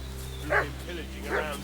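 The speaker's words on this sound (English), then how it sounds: "What's that dog making such a fuss about?" Two separate barks from a dog in the video game Kingdom Come: Deliverance II, sharp and mid-distance, sounding over a steady low background hum with music-like tones.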